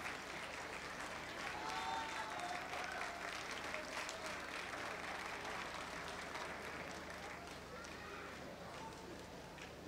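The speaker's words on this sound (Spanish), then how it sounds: "Un gran aplauso" A concert crowd applauds after a song at a folk-rock show for the 143rd anniversary of the city of Iquique, with sustained, thick clapping mixed with scattered voices and cheers throughout.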